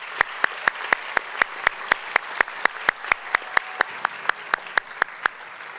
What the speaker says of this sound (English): Students, please join me in giving a round of applause to those special people in your lives.